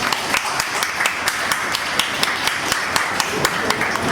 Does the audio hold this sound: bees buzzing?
no